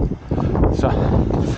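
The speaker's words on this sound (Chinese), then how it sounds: "真系大风" Strong wind buffets the microphone at a hilltop pavilion on Mount Parker, a loud continuous roaring rumble with gusting swells throughout.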